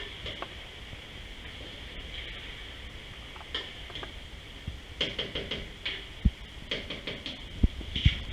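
Homemade strawberry glaze bubbles and sizzles in a pot while a utensil is stirred through it, with soft scraping and light knocks against the pot over a quiet background hiss.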